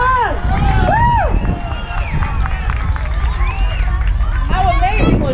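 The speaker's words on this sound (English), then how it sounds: "give a big round of applause" Festival crowd at a Hispanic Heritage celebration, loud continuous babble with cheering whoops and scattered clapping, voices shouting over a busy outdoor din.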